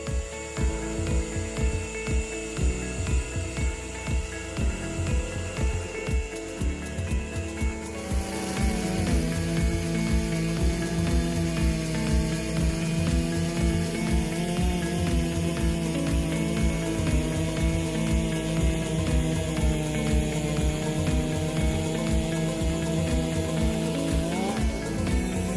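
Two chainsaws, a Stihl MS-084 and an HQ3120XP, cutting massive wood in a speed comparison: a loud, continuous high-revving buzz that shifts pitch and intensifies partway through as the chains bite deeper, with no talking.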